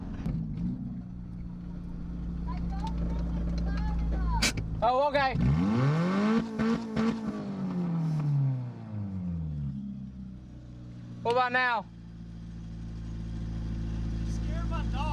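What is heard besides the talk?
car engine revving when given gas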